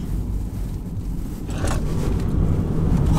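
Mini Cooper SE electric car accelerating hard in sport mode on a straight road, a steady broadband road and motor rush that swells louder over a few seconds, heard from inside the cabin without talk.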